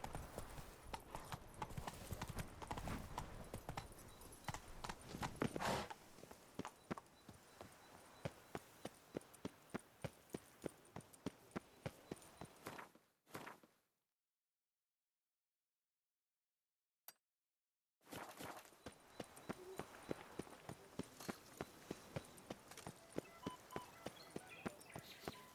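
Roach, the horse in The Witcher 3: Wild Hunt – Blood & Wine, galloping with quick, steady clip-clop hoofbeats, broken by a silent gap partway through before the hooves resume at an even pace.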